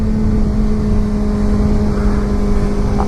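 A 2016 Suzuki GSX-R600 supersport motorcycle held in second gear in its power band, its engine droning loud and steady with a sustained high-revving hum and strong wind rush throughout.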